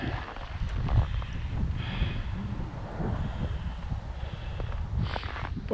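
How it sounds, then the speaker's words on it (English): Wind gusts steadily outdoors in a deep Arctic freeze, buffeting the microphone with a rough, continuous rumble that swells and eases, with no voices over it. "It is windy."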